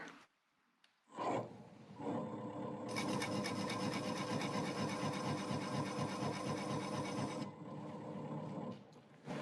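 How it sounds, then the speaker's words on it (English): A spruce bowl blank spins on a woodturning lathe while a scribing tool cuts a line into it: a steady close motor whir, joined midway by a brighter, hissing scrape that holds for several seconds before easing off. "And now I will scribe another line."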